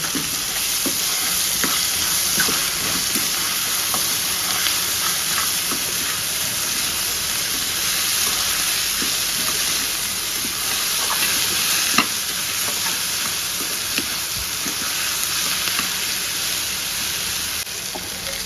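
Finely chopped okra fries in an open pan, with a dense, continuous sizzle and hiss and repeated scraping stirs throughout, close and fairly loud with no voices.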